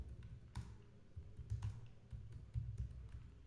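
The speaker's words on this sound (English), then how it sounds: "So only I am typing along with you all." Quiet, irregular clacking of keys on a computer keyboard, a steady run of taps with occasional heavier strokes, no voices.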